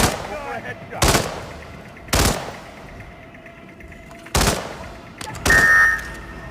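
Gunfire in the video game Hitman: four sharp, loud bursts of shots at irregular intervals, separated by quieter background ambience, the last one followed by a ringing metallic tail.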